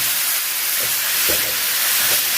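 Pumpkin and spinach drop into hot tempering of oil and browned urad dal, giving a steady, close hissing sizzle with a few soft stirring knocks.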